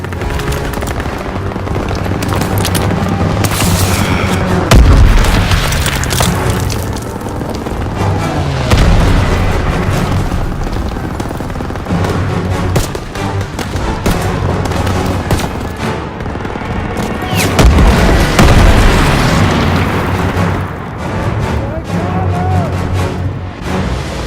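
Grenade explosions and battle noise in Call of Duty WWII, with heavy booms around five and eighteen seconds set amid continuous loud gunfire and combat rumble.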